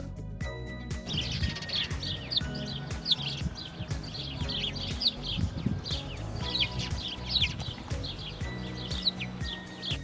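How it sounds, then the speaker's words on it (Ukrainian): Repeated bright chirps and tweets of a house sparrow go on throughout, lively and fairly close, with low rumbling noise underneath. "Давайте малята послухаємо, як співає горобчик."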